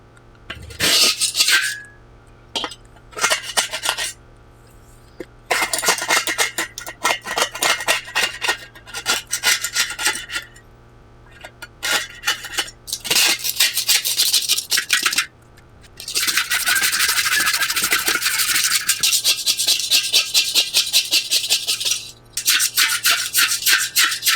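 Scrubbing the crusty rim of a Weber charcoal grill with a brush, loud rasping strokes in bursts separated by short pauses, with a long continuous stretch of hard brushing near the end.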